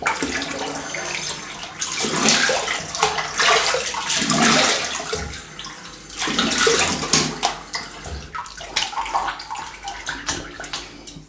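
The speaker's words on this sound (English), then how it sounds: "Let's have a quick rinse and see if there's any pickups needing done." Water running and splashing in a sink while a razor is rinsed after shaving, loud close gushing in uneven surges that swell and fade over several seconds.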